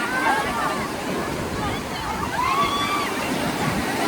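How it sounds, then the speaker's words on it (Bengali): Ocean waves at Puri beach make a constant, rushing wash of surf that fills the whole stretch at moderate loudness, with faint whistle-like tones and background beach noise. "আর অসাধারণ ঢেউ, মানে পুরীর ঢেউ নিয়ে তো আলাদা করে কিছু বলার নেই"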